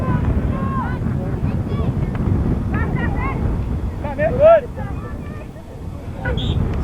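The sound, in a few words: gusting wind on a soccer field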